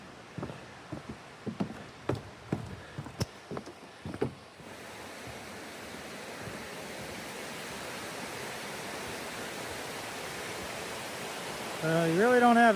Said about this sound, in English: we're going to go this way to the waterfall and see if we can get a good view of it